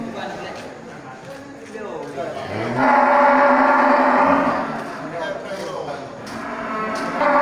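Super-grade cattle, kept for slaughter and fattening, moo with a long, loud low call in the middle, amid steady farmyard noise and faint murmuring voices.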